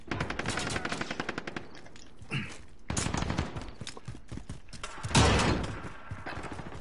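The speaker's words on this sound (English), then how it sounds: "Decoy grenades." Decoy grenades in a shooter video game, giving off fake gunfire: loud rapid bursts of automatic shots, broken by brief gaps and a heavier thump, dense and continuous without speech.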